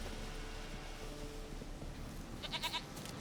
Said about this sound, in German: Sehr gut, Ziege, komm.